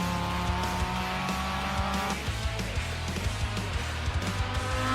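A Mazda MX-5 race car in the iRacing rookie cup at Motorsport Arena Oschersleben, engine droning loud and steady with shifting pitch as it rides over curbing through a corner, no talk.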